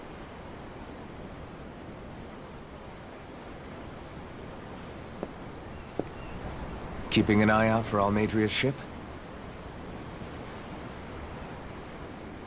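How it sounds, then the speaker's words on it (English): Steady ocean wave wash in a video game, heard from aboard a ship at sea: a constant, soft hiss of surf throughout, with a brief spoken line in the middle. "The waves. They help me think."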